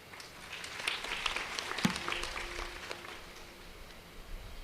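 A kirtan audience in a devotional gathering gives a brief burst of scattered applause with uneven, overlapping claps that rise and then thin out, fairly faint and heard from a distance in a reverberant hall.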